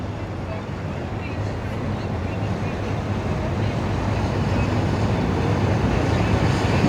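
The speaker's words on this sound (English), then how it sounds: "Got a big dolphin cruise boat coming back in the pass here." A large dolphin cruise boat, the Southern Star, passes through the pass near Crab Island. Its engine makes a steady low rumble that slowly grows louder, mixed with wind and water noise.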